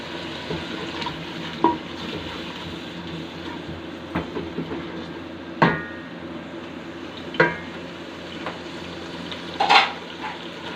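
Masala spices frying in oil for an egg curry and being stirred in the pan, a steady sizzle running throughout, broken by a few sharp spoon clicks and scrapes.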